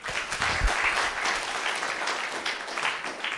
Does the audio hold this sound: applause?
yes